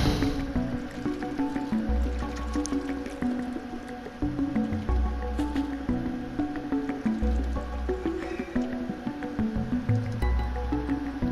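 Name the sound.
cat drinking water in video game Stray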